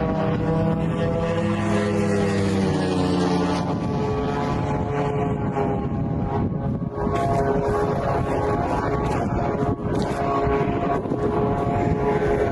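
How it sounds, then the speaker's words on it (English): A drone flying over Russia drones steadily and loudly, a continuous buzzing engine tone that rises in pitch in its first seconds and holds alone throughout. "Sounds like a drone, looks like a drone, might be a drone."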